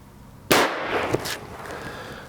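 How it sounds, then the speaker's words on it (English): One sharp, loud crack from a Rossi Gallery .22 WMR pump-action rifle, followed by a short ringing decay and a faint second click. "We're going to take 5 shots."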